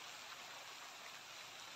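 Heavy rain pours down in a steady, dense hiss, continuous and even, with no voices, though the overall level is quite faint.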